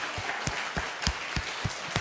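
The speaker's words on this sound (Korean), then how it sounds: "우리를 위해서 이 땅에 오셔서 죽으시고 다시 부활하신 그 주님께 우리 영광의 박수 올려드리겠습니다." Church congregation clapping in praise during an Easter worship service, a steady rhythmic beat of claps about every quarter second, close and clear.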